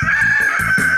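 A rooster crows a loud, close cock-a-doodle-doo, its harsh tonal call carried through the whole second with strained, raspy bursts.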